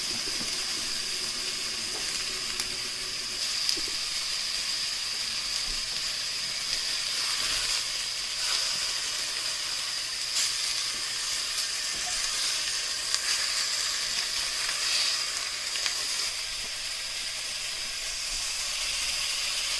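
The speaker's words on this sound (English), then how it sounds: "So I'm just searing it and then I did half, and then I'm doing the other half." Meat for birria tacos sears in a hot pan, giving a loud, continuous hiss with occasional crackles and pops, and no one speaks.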